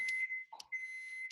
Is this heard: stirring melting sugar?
no